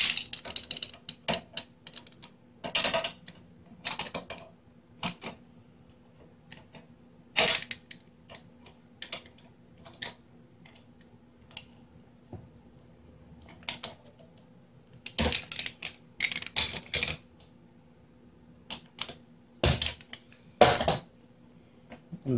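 A nut is loosened inside the plastic handle of a replica Master Sword, giving scattered close clicks, ratcheting ticks and handling knocks in irregular bursts across a quiet background.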